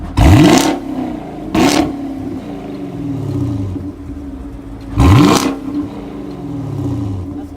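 A 2018 Chevy Camaro SS V8 revs hard three times in sharp bursts, each exhaust roar sweeping up then falling away, with a rumbling idle between blips.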